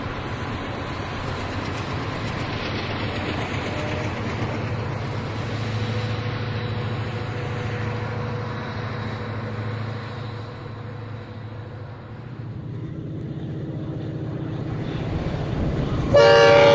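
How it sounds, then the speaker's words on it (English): Diesel locomotives rumble through Serpentine Canyon past Honeymoon Tunnels, a steady deep drone of engines and rolling cars that holds throughout, with a loud swell at the very end. "After passing Honeymoon Tunnels, the train snakes its way through Serpentine Canyon."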